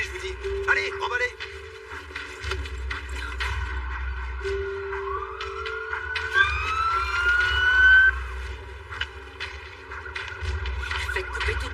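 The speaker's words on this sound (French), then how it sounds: "Faites couper toutes les sirènes." Wailing emergency sirens rise and fall under steady engine rumble, with voices talking over them throughout.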